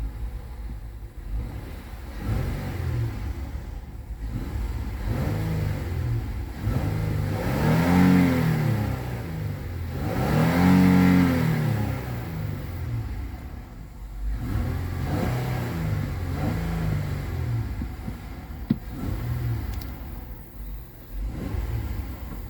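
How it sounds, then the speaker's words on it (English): A 3.5-liter J35Y6 V6 engine in a 2022 Honda Pilot SUV revs up several times, rising and falling in pitch over a steady idle, loud and close. "we'll go ahead and give it a few revs"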